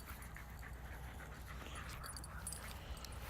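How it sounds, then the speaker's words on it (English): Huskies pant outdoors with quick, soft, rhythmic breaths, faint against a steady background hiss, with a small whine or two. "Yeah, they're panting. Their pants, puppy pants."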